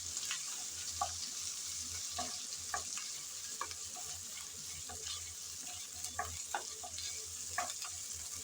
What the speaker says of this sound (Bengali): পেঁয়াজের সাথে আদা আর রসুন ভালোভাবে নেড়ে চেড়ে ভেজে নেব